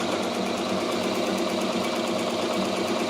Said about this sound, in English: now I'm embroidering with the MT1501 on the side of a Timberland boot